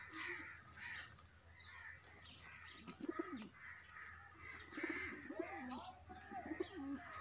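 A pigeon gives a few soft, low coos at close range, with other bird calls in the background and faint talk nearby.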